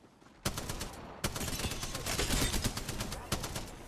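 Rapid bursts of close gunfire in an Apex Legends match, sharp repeated shots clustered in dense volleys with a few distinct reports standing out, faint voices underneath.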